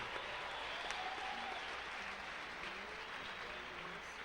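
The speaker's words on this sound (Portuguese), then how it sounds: "Pode aplaudir mais forte." Congregation applauding at a regional church congress, a steady dense wash of clapping from many hands filling the room, with faint voices underneath.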